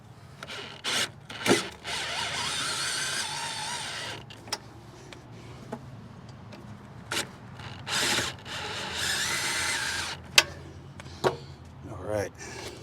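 Self-tapping screws hand-torqued into pre-drilled holes while mounting an RV hide-a-spare carrier, heard as intermittent scraping and ratcheting bursts between quiet gaps with a few sharp clicks.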